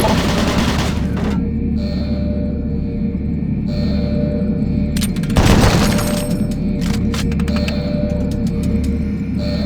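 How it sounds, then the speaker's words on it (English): Doom 3's automated turret guns let off short volleys of shots over a droning industrial hum, with one heavier booming impact mid-way and clustered rapid bursts afterward. "Warning. Automated turret guns online."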